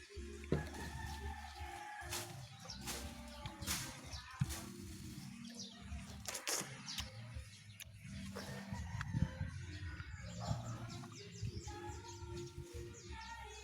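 Chickens cluck and a rooster crows repeatedly in a backyard flock, the calls close and fairly loud over a busy layer of other bird sounds.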